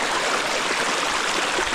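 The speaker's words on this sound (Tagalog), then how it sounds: "At ang tubig na ito ho ay walang hinto sa daloy." Mountain water from the top of a mountain gushes continuously through a hose in a farming setting, a steady, full rushing and splashing flow heard up close without pause and without voices.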